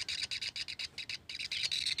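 A young Tengkek bird, a kingfisher, calling up close with rapid, shrill, repeated squawking chirps in quick bursts, loud and without talk.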